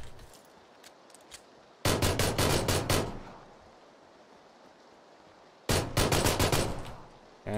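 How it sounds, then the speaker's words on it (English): Gunfight in PlayerUnknown's Battlegrounds: two loud bursts of rapid automatic fire, each about a second long, separated by several seconds of quiet ambient background. "Hey, I'm gonna have a gunfight with someone."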